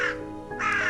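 Single crow cawing from a neem tree in a schoolyard in a cartoon, two harsh nasal caws close and clear with a brief pause between them.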